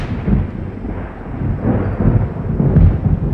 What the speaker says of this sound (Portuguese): Amélia se preparou para o barulho do trovão.